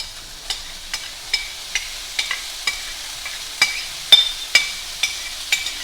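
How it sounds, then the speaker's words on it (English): Broccoli tossed in a hot stir fry pan, a soft steady sizzle under a regular series of sharp spatula taps and scrapes against the pan, close and alone without talk. "next we're gonna add in our broccoli"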